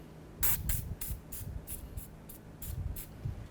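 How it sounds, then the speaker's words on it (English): Several short bursts of aerosol penetrant sprayed onto a Ford Fusion front wheel hub after wheel removal, close and distinct, with brief pauses between sprays in a quiet garage. "let's go ahead and spray this down with some penetrant"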